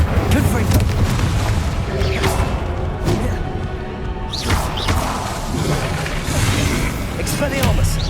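Spell blasts and explosions from the Hogwarts Legacy video game land as repeated heavy booms and thuds, loud and close, with a voice shouting incantations between the bursts.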